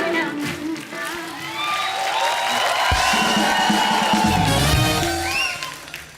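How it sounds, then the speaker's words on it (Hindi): Studio audience applause and cheering for veteran Hindi film actress Waheeda Rahman on a comedy talk show, loud and sustained throughout with shouts and music-like tones mixed in. "जोरदार तालियां हो जाए।"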